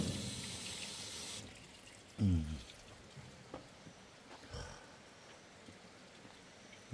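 Water trickles from a tap in an old rural house, a faint splashing flow that is clearest at the start, with a few soft knocks and handling sounds after it.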